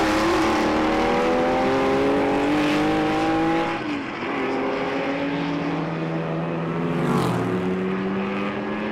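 A Ford Mustang GT350 historic race car roars past on the Jarama circuit, its engine note sweeping down in pitch as it passes close, with other racing engines droning around it and no talk.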